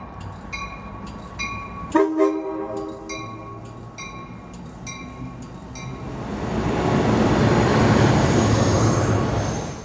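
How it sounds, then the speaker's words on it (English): A northbound Pacific Surfliner passenger train at Fullerton station, with a sharp onset of horn-like tones and bell rings early on, then a swelling broadband rumble of the train rolling through. "this northbound Pacific Surfliner train"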